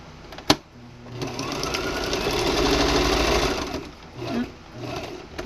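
Sewing machine stitching satin ribbon binding onto a zipper purse, a sharp click and then a loud, fast, close mechanical whir that runs for a few seconds, slows and stops in short bursts.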